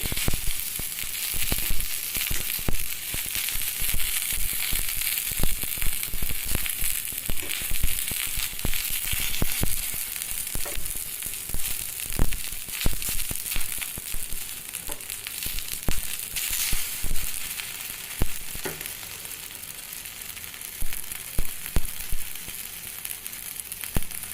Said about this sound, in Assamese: এতিয়া এনেকৈ মই 2 মিনিটমান ভালকৈ উলট পালটকৈ ভাজি ল'ম।